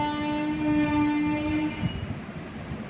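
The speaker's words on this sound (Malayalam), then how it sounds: "പിന്നെ വലിയ താമസമൊന്നുമില്ലാതെ കഴക്കൂട്ടം സ്റ്റേഷനിൽ നിന്നും നമ്മളെ ട്രെയിൻ എടുത്ത് പോവുകയാണ്" A train pulling out of Kazhakkoottam railway station, its horn sounding loud and sustained, then giving way to rumbling wheels and carriage noise as it moves off.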